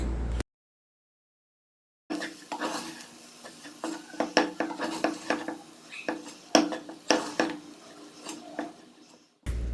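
Beef cutlet filling with potato being mixed in a pan: repeated scraping and stirring clatter of a spatula against metal, steady and close, after a brief silence at the start.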